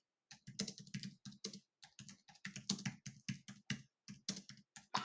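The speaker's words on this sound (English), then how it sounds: "I'm typing." Quick, crisp keystrokes on a computer keyboard tap out in irregular bursts with short pauses between them, close and fairly quiet, with no talking.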